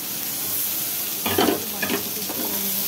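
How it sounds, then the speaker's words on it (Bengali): Whole garam masala, onions and cashews fry in hot oil in a pan with a steady close sizzle, broken by a few louder bursts of stirring and scraping partway through. "এখানে সব মশলাগুলো আমি ভেজে নেব"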